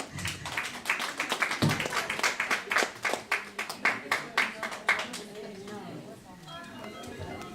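A crowd applauds at a school class event, a burst of brisk, clearly separated claps that fades out toward the end, with quieter voices afterward.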